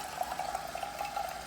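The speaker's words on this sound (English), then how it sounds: "running some water through this to heat my cup up" Water running through a coffee maker to heat a cup, a faint, steady gurgling trickle with light bubbling, quiet and unbroken.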